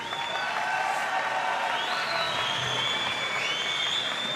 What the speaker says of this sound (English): the crowd, you hear it by yourself